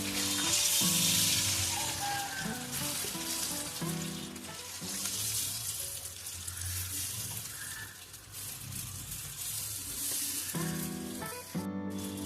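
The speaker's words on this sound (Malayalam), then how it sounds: "മീൻ ഇട്ട് കൊടുക്കുമ്പോൾ ഹൈ ഫ്ലെയിമിൽ വയ്ക്കാൻ ശ്രദ്ധിക്കുക" Anchovies for nethili 65 drop into hot oil on a high flame, with a bright crackling sizzle strongest at first, then a steady frying hiss that continues beneath background music.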